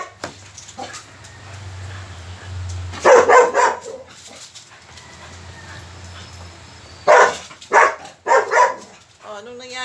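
A dog barks nearby in two bursts of three or four sharp barks each, separated by quiet stretches with low background hum and a voice speaking softly.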